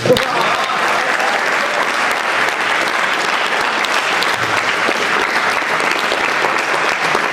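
Dense, steady applause from the audience at a Hindi comic poetry gathering (kavi sammelan), loud and continuous throughout with no talking over it.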